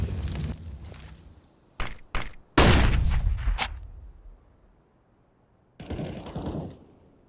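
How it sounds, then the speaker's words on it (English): Rapid gunfire bursts ring out during a competitive shooter video game match, a few short sharp volleys and a longer spray, then a pause before another burst of shots, with no talk. "Smoke comes out, good spray from Gabeson."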